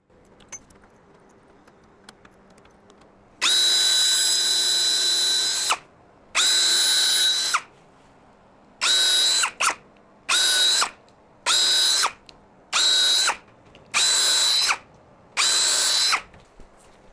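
Power drill driving screws into marine plywood boards for a tatami platform build, heard as eight loud whirring bursts of one to two seconds each, separated by short quiet pauses.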